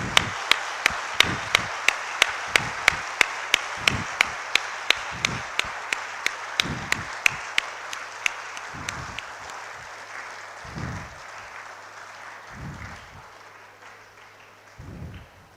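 Audience at an international conference claps in tight unison, a steady run of about twenty sharp, evenly spaced claps, before the rhythm loosens into scattered bursts of applause that fade away.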